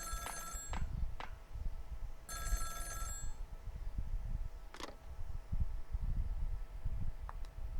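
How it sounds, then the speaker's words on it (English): Telephone in a phone booth in the Nintendo DS game Ghost Trick, giving two short bright ringing bursts and a few faint electronic blips over steady background music. "This game must be really old if they have phones."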